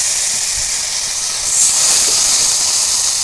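Tamarind water poured into a hot pan of frying fish, giving a loud, steady close-up sizzle and hiss that swells slightly midway and continues without talk.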